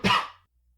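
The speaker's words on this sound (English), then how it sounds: "replied the constable, coughing with great violence, for he had finished his ale in a hurry, and some of it had gone the wrong way" A man coughs violently once after gulping ale too fast, a single harsh, close burst that fades within half a second.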